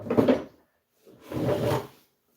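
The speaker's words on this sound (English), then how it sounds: "Pull these drawers out and wrap this around this edge too." Two wooden drawers slide out of a piece of furniture being refinished, each a short rubbing scrape, close and fairly loud, separated by a brief pause, with no speech.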